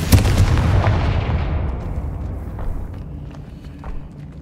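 A Confringo fire spell blast in Hogwarts Legacy on PS5 opens with a loud booming burst that rolls off into a long fading rumble with faint debris-like crackles.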